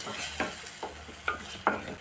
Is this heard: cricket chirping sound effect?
no